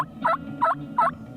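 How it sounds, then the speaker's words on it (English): A wild turkey gobbling on a spring morning in the Roanoke Gamelands of Mitchell County, three evenly spaced rattling gobbles from one bird, moderately distant over quiet woods. "We've had several birds gobbling this morning, and they've all shut up except for one, and he's still going at it."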